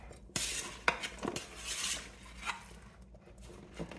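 Shredded meat and smoky hominy are stirred into a pot of smoked pozole, with clinks and scrapes of a utensil against the pot and soft wet stirring, fairly close.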